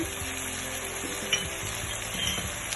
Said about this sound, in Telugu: పసుపు పొడి, గరం మసాలా పొడి ఇవన్నీ వేసి బాగా ఫ్రై చేయాలి.